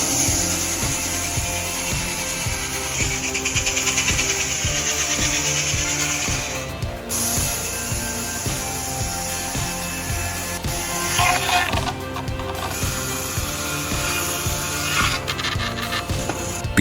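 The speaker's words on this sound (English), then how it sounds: "a perfect fusion of an excavator and a giant circular saw, cutting through massive logs with astonishing precision" Excavator-mounted giant circular saw cutting through massive logs, a loud continuous mechanical whine and grinding roar with recurring surges as the blade bites into the wood.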